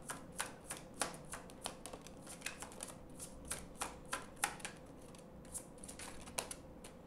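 Tarot cards being shuffled by hand, a string of soft, irregular papery snaps and riffles, close and fairly quiet, with no voices.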